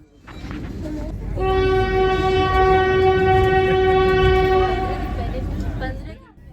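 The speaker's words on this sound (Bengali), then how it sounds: "ট্রেনটা স্মুথলি যথাসময়ে হাওড়া স্টেশন থেকে ছেড়ে গেল" A long, loud horn blares from a Vande Bharat Express departing Howrah station over the low rumble of the moving train, swelling and holding for several seconds before fading with the engine noise.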